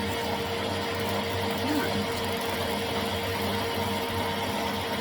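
Metal lathe running at reduced speed while parting off a custom motorcycle forward-control part, a steady close mechanical hum with a faint tonal whine throughout.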